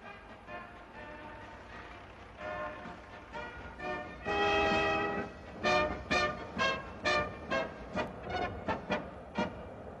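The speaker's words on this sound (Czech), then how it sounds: "Vlak vyjíždí do stanice." Prague metro train on line C rolling into a station on a test run, a rising rumble followed by a series of rhythmic wheel clatters and squeals over the rail joints, fairly close, with no talk.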